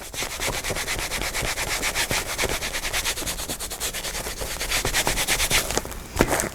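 A hand rubs glue into a fabric-covered book spine with steady, fast back-and-forth scrubbing strokes, close and continuous, with a sharper knock near the end and no talk.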